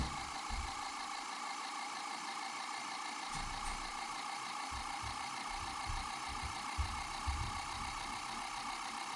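A pulse motor with 538 turns wound in series spins steadily, giving a faint, continuous whirring hum with a high electrical whine and occasional soft ticks, heard alone without talk.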